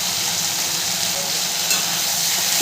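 Ginger paste, green chili paste and turmeric powder sizzle loudly in hot oil in a pan as they are stirred together for Bengali shukto, a steady frying hiss with no talk.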